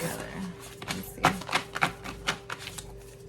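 Cards from a message deck being shuffled by hand, the stack sticking together, giving a string of soft flicking and riffling taps with short bursts of papery rustle, close and moderately loud, under a steady low background hum.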